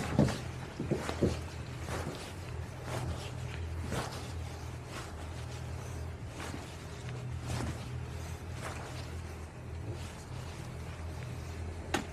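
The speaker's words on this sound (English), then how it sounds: "we got a boat coming through" A boat engine drones low and steady in the distance as a boat passes through a channel, with water sloshing and intermittent knocks over it; no speech.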